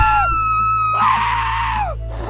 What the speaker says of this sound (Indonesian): si Mandon dan si Stubbins saling kaget dan berteriak